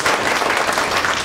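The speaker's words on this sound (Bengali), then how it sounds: "সবাই মিলে আমরা একটা হাততালি" An audience at an organisational strategic-plan review meeting bursts into applause, a short, dense patter of many hands clapping at once, loud and close throughout.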